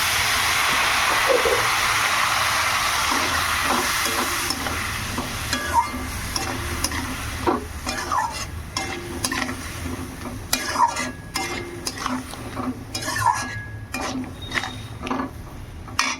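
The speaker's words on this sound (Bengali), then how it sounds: "এবার মশলাটা একটু কষিয়ে নেব" Ground spices with dried red chili and a splash of water are fried and stirred in a pan, giving a steady sizzle with repeated scraping and clinking from a spoon against the metal, close and fairly loud, with no talking.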